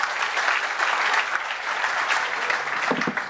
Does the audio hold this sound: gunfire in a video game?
no